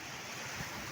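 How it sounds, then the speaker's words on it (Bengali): Small, gentle sea waves lapping at the Shah Porir Dwip jetty in Teknaf, Cox's Bazar, heard as a steady close wash of surf with light wind noise and no voices. "সমুদ্রের পানি মোটামুটি শান্তই আছে, তবে একটু ঢেউ দেখতে পাচ্ছেন ছোট ছোট"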